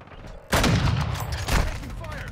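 Gunfire from a video game breaks out as a loud, sudden burst of rapid shots, with a second heavy burst a second later and rumbling echoes trailing off.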